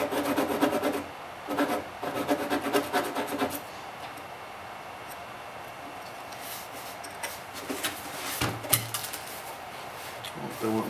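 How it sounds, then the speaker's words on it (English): Rasp filing wood on a guitar top at the neck cutout during a restoration, heard as bursts of close, gritty scraping strokes separated by quieter pauses and light handling noises. "we'll just get in there and we'll file it and or sand it away"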